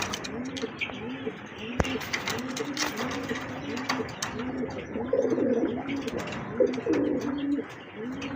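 Pigeons cooing at a pigeon market, a repeated rhythmic coo close by, with chirps and a voice talking over it.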